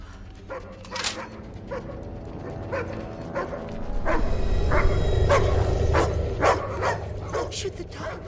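A dog barks and yips repeatedly in short, loud bursts amid a tense action scene, the barks scattered throughout with whimpering tones, mixed under shouting voices and a rising rumble.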